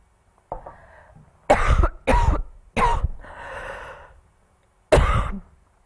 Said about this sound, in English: my throat is killing me, so I'm going to be coughing